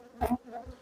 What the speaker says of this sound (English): the bees like to just come in, spit it out, and run off again